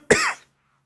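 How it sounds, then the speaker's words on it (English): A single sharp, harsh cough from an adult during a sit-down conversation, close and fairly loud, lasting about a third of a second and then trailing into quiet. "It's just a bad cough."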